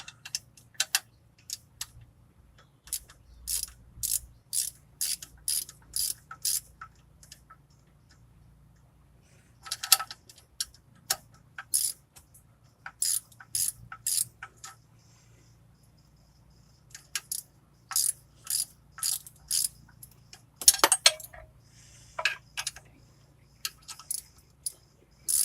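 Bolts are tightened with a ratchet on the turbo up pipes of a 2000 Ford 7.3 diesel, giving bursts of rapid small metallic clicks separated by quiet pauses, close up and without talk.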